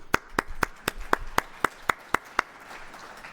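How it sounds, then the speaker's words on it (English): A lone pair of hands clapping at a lecture, about ten sharp, evenly spaced claps that stop partway through, followed by a quiet room. "And you all deserve our applause."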